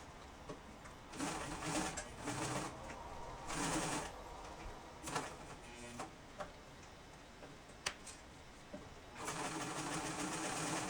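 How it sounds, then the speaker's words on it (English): A sewing machine stitches the second side of a zipper seam on a Wicked Witch costume skirt in short bursts of rapid mechanical whirring, stopping and restarting, faint and close with soft handling noises between runs. "And then sewing up the second side of the zipper here."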